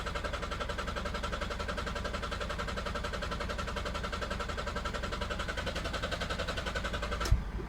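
A Ford Galaxy TDi diesel engine cranks on and on without catching, a steady, even, rhythmic churn held at constant loudness, with one brief sharp knock near the end.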